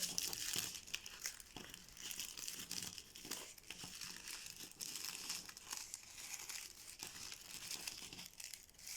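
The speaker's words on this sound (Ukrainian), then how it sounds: "Треба ось так звернути наш папір." Sheets of paper are rolled and crinkled by hand for a small paper bouquet's gift wrap, a steady close rustling and crumpling with faint tearing touches.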